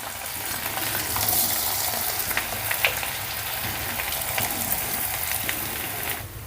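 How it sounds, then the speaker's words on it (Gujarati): Potatoes go into a pan of hot oil with mustard seeds, cumin, turmeric and chili powder, raising a loud, dense, continuous frying hiss that fills the scene close up before cutting off abruptly. "અને ત્યાર પછી અહીંયા આપણે ફટાફટ બટેટા નાખી દેવાના છે."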